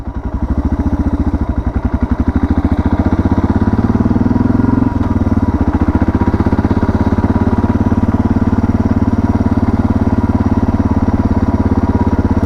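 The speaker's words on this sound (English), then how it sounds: "So the bike's been running now for a good hour and a half." A Suzuki DR650 motorcycle with a modified exhaust and carburettor being ridden, its engine a loud, continuous thumping drone that holds steady throughout.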